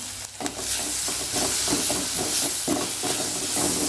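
Onion masala with garam masala simmering in a pan for vegetable noodles, a steady close sizzling hiss with occasional stirring scrapes throughout.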